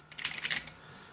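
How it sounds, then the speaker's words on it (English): Brief burst of keystrokes on the mechanical keyboard of a Raspberry Pi 4 cyberdeck, several quick clicky taps close up over about half a second, then quiet. "It's got a mechanical keyboard,"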